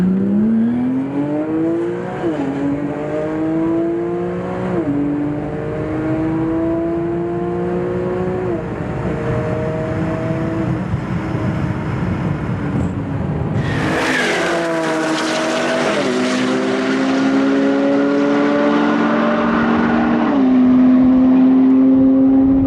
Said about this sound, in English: turbo Porsche versus twin turbo Trackhawk